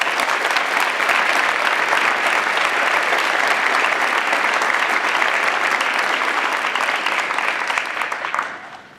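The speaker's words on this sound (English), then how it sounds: "So please, another round of applause for these two remarkable men." Dense, steady applause from a large audience at a secondary school graduation ceremony, loud and sustained for about eight seconds before tapering off at the end.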